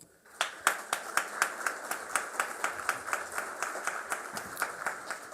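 Audience at a judicial school panel on electing judges applauds in a welcome, with a few close sharp claps building into a steady, fairly quiet run of rhythmic clapping.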